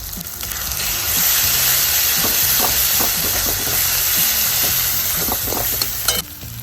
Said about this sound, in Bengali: গ্যাসটা আমি আসতে দেবো দিয়ে কষে নেব সামান্য জল দেবো যাতে মশলাটা না পড়ে